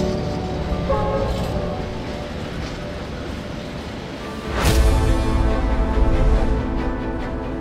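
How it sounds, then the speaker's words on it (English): A freight train fully loaded with 32 forty-foot containers rumbles through a Swedish city at night, a loud continuous rolling roar that swells midway. "a fully loaded train with 32 of our 40-foot magenta containers traveling through Sweden"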